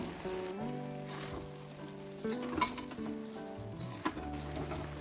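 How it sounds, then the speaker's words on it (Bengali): Vegetarian vegetable rice with garam masala being stirred and mixed in a pan, a soft steady sizzle with occasional scrapes and clinks of the spoon over quiet background music. "সব কিছু ভালোভাবে মিশিয়ে নেব"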